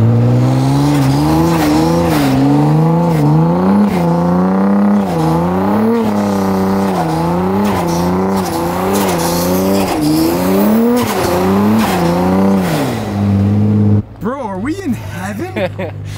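A car accelerates hard toward a soccer ball at speeds around 100 to 150 mph, the engine note rising through repeated gear changes, loud and close, with people talking over it until it cuts out near the end.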